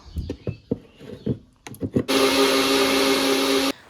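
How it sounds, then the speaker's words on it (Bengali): An electric mixer grinder whirs loudly for about two seconds, blending green and red chillies into a spice paste, after a series of knocks and clatter from handling the jar. "মশলাটা পেস্ট করে নিচ্ছি"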